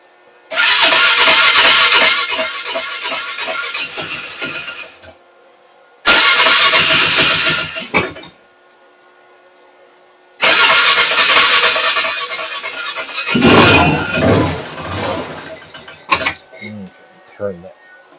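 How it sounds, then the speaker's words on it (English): A 2009 Polaris Sportsman 500 ATV engine, its carburetor newly rebuilt and dry of fuel, cranks in several loud bursts separated by pauses, then catches and runs with a rough, uneven idle up close. "let's crank this over and see if she'll fire up"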